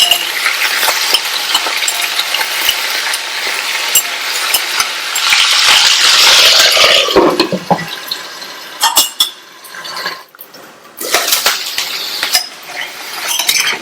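Potato pieces fry steadily in hot oil in a pan, a loud continuous sizzle broken by scraping and clinking as a utensil stirs them, with no one talking.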